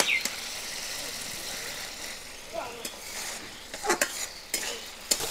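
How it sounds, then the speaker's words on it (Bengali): Taro is stirred with a Hilsa fish head in a pan, a spoon scraping and clinking against the metal over a soft frying sizzle, the scrapes growing more frequent toward the end. "এই নাড়তে নাড়তে জিনিসটা একদম শুকনো হয়ে টাইট"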